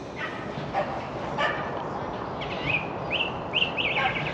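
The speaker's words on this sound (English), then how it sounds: "Excited runaway doggy there." Excited runaway dog barking in a graveyard, a few sharp barks at a middle distance over outdoor background noise with birds chirping.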